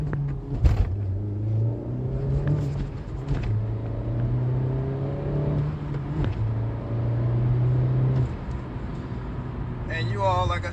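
A manual Honda Civic Type R engine revs and pulls from a dead stop, pitch climbing through several gear changes, with a steady near rumble and brief voices over it.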